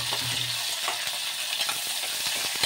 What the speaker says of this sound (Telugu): ఆయిల్ మరిగాక మనం పోపులు వేసుకొని ఆనియన్ అండ్ కరివేపాకు వేసి మంచిగా ఫ్రై అవ్వాలి